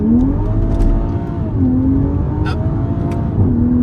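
A Toyota GR Supra pulls away from a stop in first gear, its engine note rising in pitch, then dipping briefly at a shift before climbing again, close and prominent with no talk.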